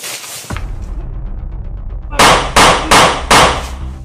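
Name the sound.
gunshot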